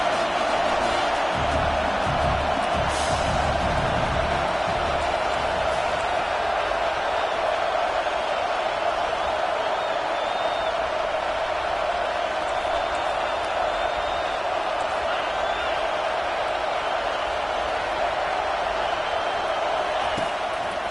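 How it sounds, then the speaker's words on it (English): A football stadium crowd on third down keeps up a loud, sustained roar of cheering that fills the whole stretch without letting up. "3rd down, and this crowd will blow out a vocal cord to help this defense."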